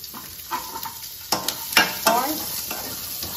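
Onion, garlic, ginger and slit green chilies sizzle in a pan, broken by a few sharp stirring scrapes, close and fairly loud with no talking.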